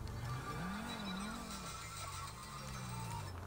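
A car engine in GTA 5 revs and drones, its pitch rising and dipping in waves over about three seconds, steady and fairly close with a faint background hiss.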